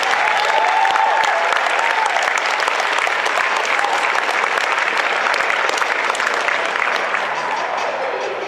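A large audience gives loud, sustained applause for cosplay contestants at a Perth cosplay championship, with dense clapping that stays even throughout.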